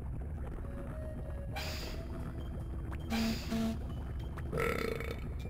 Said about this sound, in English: that one's the burp